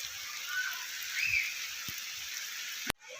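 Rain falling in a village, a soft continuous patter with a couple of brief knocks and a sudden louder thump near the end, no voices.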